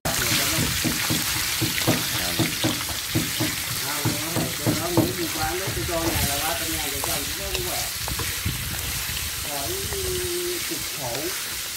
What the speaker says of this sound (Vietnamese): giờ nó làm món gà chiên nước mắm